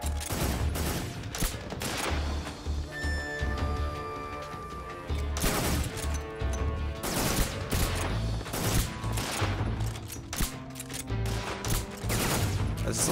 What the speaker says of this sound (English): A lot of shots into his arm.